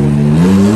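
Street-racing car revving hard nearby, a steady loud engine drone with a rising whine over it, consistent with a turbo whistle, no voices.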